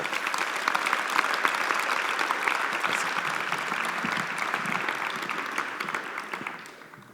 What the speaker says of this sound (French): Des applaudissements, s'il vous plaît, pour Hubert Auriol.